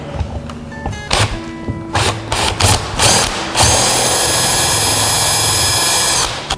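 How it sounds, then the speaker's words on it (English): A power drill with a small bit whirs in short bursts, then runs steadily at high speed for several seconds drilling a pilot hole, close and loud. "It's best to use a smaller drill bit first for a pilot hole."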